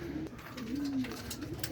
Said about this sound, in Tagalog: sabi nga dumating ng ibon